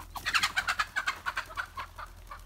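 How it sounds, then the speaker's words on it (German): An excited chicken clucks in a rapid series of sharp, rhythmic calls, close and fairly loud, with no talking. "ein aufgeregtes Huhn"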